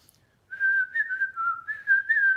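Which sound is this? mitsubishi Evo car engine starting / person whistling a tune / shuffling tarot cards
person whistling a tune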